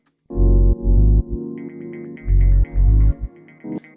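A heavy, distorted guitar in a deep house track chugs out a choppy rhythmic riff with bursts of low tone and brighter notes ringing above, ending with a short pick scrape.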